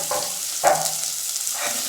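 A large onion sautés in a pan for sambar, giving a soft steady sizzle broken by a couple of stirring scrapes. No voices are heard.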